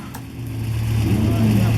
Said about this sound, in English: This is gentlemen, start your engines time.